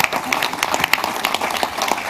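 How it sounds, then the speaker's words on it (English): Audience applause fills a session hall at the Africa Adaptation Summit after a speech: dense, steady clapping from a large crowd, close and loud, with a few sharper individual claps over the wash. "I count on a warm applause"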